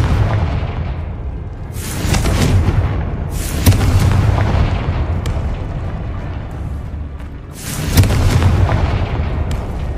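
Confringo fire spell explosions in Hogwarts Legacy, several loud booming blasts with sharp onsets and rumbling tails, recurring at intervals across the stretch.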